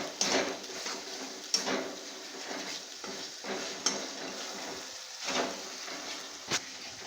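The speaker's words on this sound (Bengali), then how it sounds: "এরকম করে অল্প করে হালকা করে কষতে থাকবো যতক্ষণ না তেলটা বেরিয়ে যাচ্ছে" Spice paste for dahi katla stirred in oil in a pan, with a spoon scraping and tapping the metal at irregular intervals over a faint, steady sizzle.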